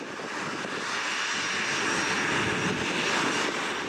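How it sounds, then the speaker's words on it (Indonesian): A presidential aircraft's engines at Balikpapan's Sultan Aji Muhammad Sulaiman Sepinggan International Airport give a steady, loud, broadband jet roar that holds evenly throughout, with no voices. "Presiden Jokowi bersama rombongan tiba di Bandara Internasional Sultan Haji Muhammad Sulaiman Sepinggan, Balikpapan, Kalimantan Timur."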